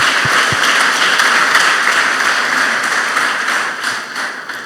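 Sustained applause from a church congregation at an anniversary service, a dense, steady wash of many hands clapping at full loudness that tapers slightly toward the end, with no talking over it.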